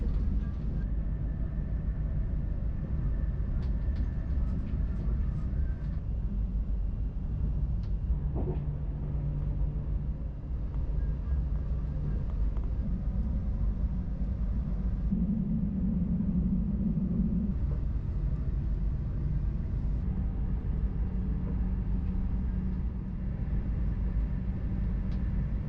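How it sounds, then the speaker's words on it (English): An SŽ Pendolino train runs on freshly laid track between Ljubljana and Maribor, a steady low rumble with a constant hum heard from onboard, plus faint occasional clicks and a brief tonal whine partway through. "our Pendolino gets a chance to really stretch its legs as we enter the final sections to Maribor"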